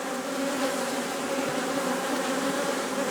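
A dense, continuous drone of many honeybees buzzing close by around an open hive, steady and even with no voices.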